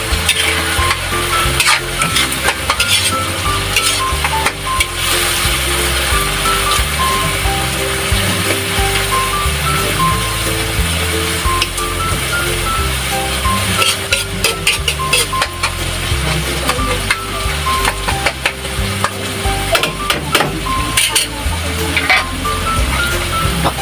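Sisig sizzles and fries in a pan while being stirred, a steady, loud crackling hiss running throughout with irregular clinks and scrapes of the utensil against the pan.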